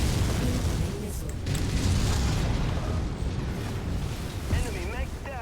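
Heavy, continuous rumbling explosions from incoming missiles in the MechWarrior game, with an Atlas AS7-RS mech under fire, a dense roaring barrage filling the whole stretch with a few sharper bursts near the end.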